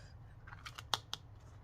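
Scissors snip through a paper tag for a handmade journal in several short, crisp cuts, with two sharper snaps near the end, close up and alone.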